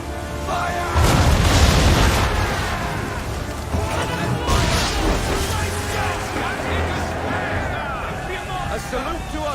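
Ship cannon fire in the video game Assassin's Creed III, a heavy booming blast followed by rumbling explosions and crashing debris at sea, with voices shouting amid the noise.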